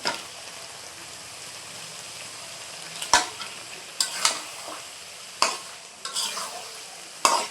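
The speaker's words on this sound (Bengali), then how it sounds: "ভালোভাবে নেড়ে নিব মশলার সাথে যাতে ভালোভাবে অ্যাড হয়" Meat being stirred with biryani masala in a pan: a low steady sizzle broken by several sharp scraping and clinking strokes of the spoon, close and fairly quiet, with no talking.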